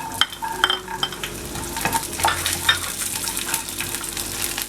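Cumin, black pepper, garlic and ginger sizzle in a hot pan for a chicken curry, a steady close crackle punctuated by scraping and clinking as the spices are stirred.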